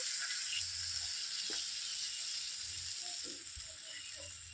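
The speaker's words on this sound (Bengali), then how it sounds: "এরপর আমি অল্প করে জল দিয়ে দিচ্ছি" Hot pan of boiled potatoes for a vegetarian aloo dum hissing after a little water goes in, a soft, steady sizzle with a few faint bubbling pops, fairly quiet and without talk.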